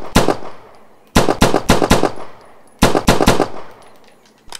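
Rapid simulated gunfire from Practisim VR, a competition shooting video game: three loud clusters of quick shots, each string decaying into a brief echo.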